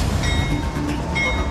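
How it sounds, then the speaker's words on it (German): Freight train carrying sealed shipping containers of waste to a landfill in South Carolina. A loud, continuous rumble and rattle of wagons rolls close by, with faint metallic squeals on top. "in Schiffscontainern versiegelt und auf einen Zug geladen, der zu einer Müllhalde in South Carolina unterwegs ist"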